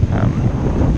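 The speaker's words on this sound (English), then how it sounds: "And there's a wind all the time" Steady wind at Playa Honda on Lanzarote, a continuous broadband whoosh buffeting the microphone for the whole short moment, loud and unbroken.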